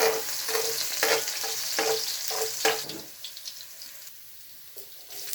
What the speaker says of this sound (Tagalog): maaari na rin gisahin ang bawang at sibuyas. Ilagay na rin ang chopped garlic at lutuin lang ito ng maigi.